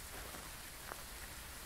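Heavy rain pours steadily in the Phasmophobia video game, a dense, even hiss filling the whole moment with one faint brief tick near the middle.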